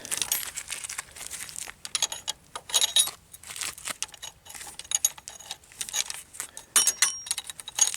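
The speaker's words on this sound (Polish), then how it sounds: "kluczem 17 będziemy sobie odkręcać paliwowe przewody." Metallic clinks and light rattling of a 17 mm wrench loosening fuel line fittings on fuel injectors, in short irregular bursts, fairly close and moderately quiet, with no voices.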